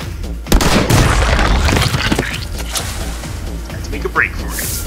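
Explosions and gunfire crash through a frantic shootout in MADNESS: Project Nexus, with a thrown grenade blowing up amid loud, dense bursts and cracks while a voice talks over the chaos.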